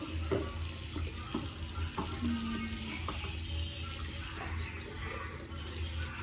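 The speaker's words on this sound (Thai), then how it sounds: "ล้างขวดนมของน้องนะคะ" A baby bottle washed at a kitchen sink, with steady running tap water and faint clinks and rubbing of the bottle throughout, close and moderately loud.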